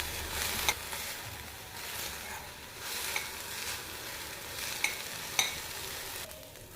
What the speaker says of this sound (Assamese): এতিয়া ধুই পখালি লোৱা সজনা ফুলখিনি দি দিব লাগিব আৰু তাৰ পিছত লৰাই কিছু সময় ভাজিব লাগিব